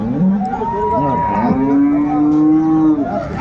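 A dairy cow at a cattle market gives a long, loud moo close by, the low drawn-out call rising and holding for a few seconds.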